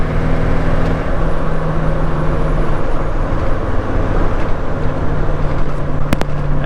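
A Powerstroke diesel truck with a KC300X turbo accelerates hard, a loud, steady engine drone heard from inside the cab with a brief click near the end.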